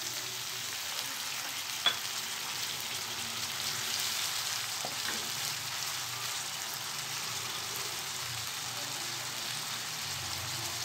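Chicken frying in a pan for mustard chicken sizzles with a steady, close hiss and crackle throughout, with one or two faint clinks near the start.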